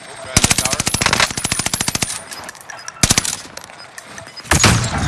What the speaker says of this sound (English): I'm taking fire!